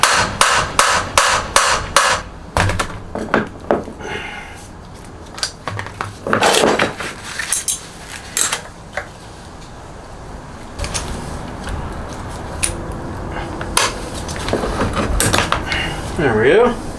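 Metal hammer blows strike a scrap socket to drive out a Toyota Tacoma drive shaft, a rapid burst of sharp clanks followed by scattered heavier hits and metallic rattles, loud and close.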